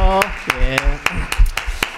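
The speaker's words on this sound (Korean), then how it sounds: "박수 한번 하겠습니다." A church congregation in a Korean Sunday service claps in a steady rhythm, about eight sharp, close claps over a couple of seconds, with a voice talking underneath at the start.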